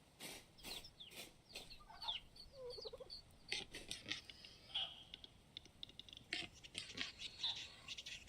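A pheasant in the Vintage Story game gives soft, scattered clucks amid faint keyboard clicking and low background noise, quiet and intermittent.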